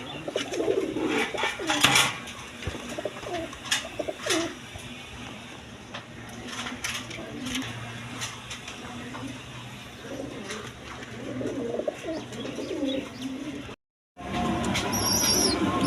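Jacobin and Maltese pigeons coo repeatedly in soft, low, throaty bursts, close by, with occasional wing flutters and rustling; no talking.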